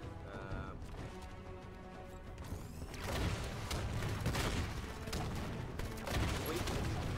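Laser gun shots in a video game crackle in a fast, fairly quiet string of sharp bursts that grow denser partway through, with a player's voice faintly present under the action.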